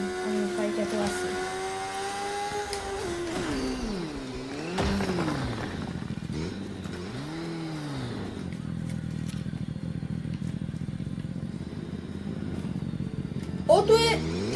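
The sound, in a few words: motorcycle engine in Fortnite video game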